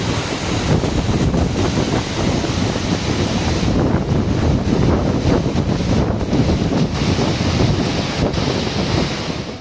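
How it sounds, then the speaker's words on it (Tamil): Floodwater roaring down the swollen Manimuthar waterfall in Tirunelveli district during heavy monsoon rain, a loud, steady, broadband rush that never lets up, with wind buffeting the microphone and no voices. "திருநெல்வேலி மாவட்டம் மணிமுத்தாறு அருவியில் வெள்ளப்பெருக்கு ஏற்பட்டுள்ளது"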